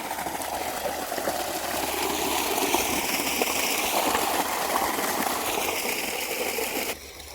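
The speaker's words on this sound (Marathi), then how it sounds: "तर गाईस तुम्ही पाहू शकता इथं मोटर चालू आहे खतरनाक." An irrigation water pump motor runs steadily in a wheat field, giving a continuous mechanical whir with splashing water. It holds at an even level for about seven seconds, then drops in volume near the end, with no talking over it.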